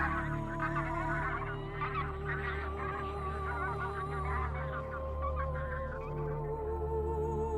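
Flocks of migrating birds crowd Spain's autumn and winter skies, their dissonant bugling calls overlapping into a dense, continuous din with no pause and no voices.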